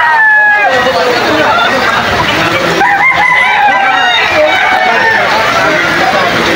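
Roosters crowing repeatedly amid constant clucking and the babble of a crowded poultry market in the rain in Bocaue, Bulacan, loud and close.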